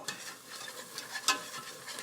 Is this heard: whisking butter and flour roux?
yes